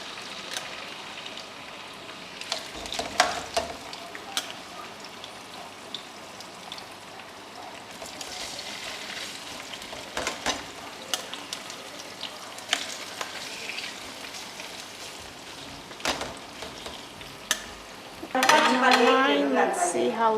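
Veal hits a pan after the oil is drained, giving a soft steady sizzle with clinks of utensils against the pan, and a louder burst of frying near the end; voices talk intermittently over it.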